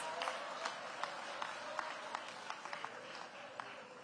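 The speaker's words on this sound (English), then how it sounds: "Give them a round of applause for all of the staff here at Phelps." Audience applause for building staff at Phelps during a public event with DC Mayor Bowser, a faint, distant patter of clapping with scattered sharper claps.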